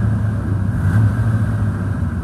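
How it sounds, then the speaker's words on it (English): A 2019 Ford F-250 Lariat 4x4 pickup engine idles with a low steady rumble and swells briefly in a mild rev near the middle, heard up close without any talking. "It revs up."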